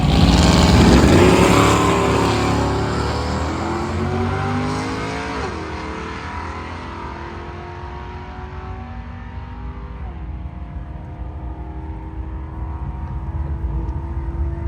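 A 1966 Chevrolet Nova drag racing down a dragway strip, a loud engine roaring hard at launch, then pitch climbing through successive gear shifts as it fades into the distance over steady crowd and track ambience.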